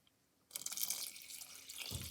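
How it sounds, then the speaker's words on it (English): Water pours from a tap into a pot of wine-soaked vegetables and purple potatoes for a plant-based bourguignon, starting abruptly after a quiet moment and running steadily close by, with a brief splashier surge at the end. "now we're gonna cover everything with water"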